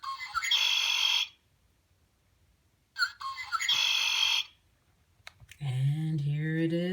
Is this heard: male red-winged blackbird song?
yes